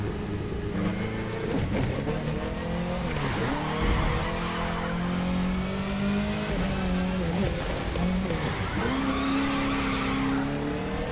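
A Mitsubishi Lancer WRC 05 rally car with 421 hp drifts in The Crew 2, its engine roaring and shifting in pitch with repeated tire squeal as it slides through bends.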